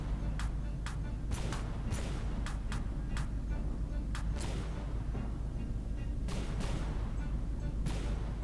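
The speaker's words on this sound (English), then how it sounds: "Hellfire's just flying around, swarms of missiles everywhere, cannon shells flying everywhere" Cannon fire and missile blasts crack and thump in rapid, irregular volleys over a constant low rumble during a naval battle in the From The Depths video game.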